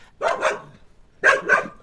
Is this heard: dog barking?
yes